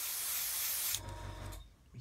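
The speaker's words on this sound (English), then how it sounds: "spray this on nice and lightly" Sealer finish sprayed lightly from a spray gun, a steady close hiss lasting about a second before cutting off, followed by quieter low rumbling and a brief second faint burst.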